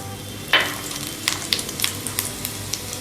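Cumin seeds dropped into hot desi ghee for a dal tadka sizzle and crackle steadily up close, with small pops and a spoon stirring the pan.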